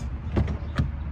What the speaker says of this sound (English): unlock again, and then all the handles come out